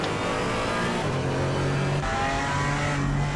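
Race cars on a formation lap at Zandvoort in a racing video game, engines droning and revving through gear changes, a dense continuous roar of several cars up close.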